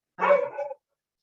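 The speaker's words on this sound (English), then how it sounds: "I really apologize about my dog." A single pet dog gives a short, fairly loud bark indoors, one burst of about half a second with silence on either side and no voices.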